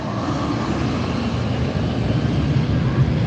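A Southwest airliner at LAX airport gives off a continuous broadband jet engine roar, steady and fairly loud throughout.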